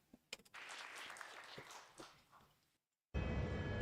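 Clapping from an audience runs steadily for a couple of seconds after a few sharp claps, fades out, and is followed by a burst of loud broadband noise.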